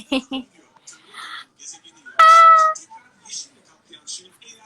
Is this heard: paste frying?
no